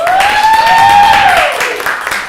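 A crowd applauds to vote for a psychic armed with a shrink ray, the clapping a dense wash under a rising and falling voiced whoop that rides over it.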